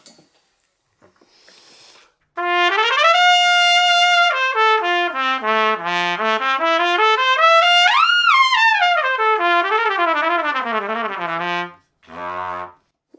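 A trumpet of the Universal model plays a continuous melodic phrase, rising and falling through sustained bright notes, loud and close in a small room, ending with a brief short note after a pause.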